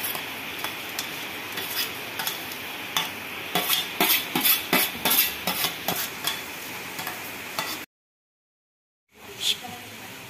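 Makhana frying in a pan with a coarse cashew, almond and dried date mixture, heard as a steady sizzle with rhythmic scraping and clinking stirs of a spoon against the pan, a brief silent gap, then more stirring.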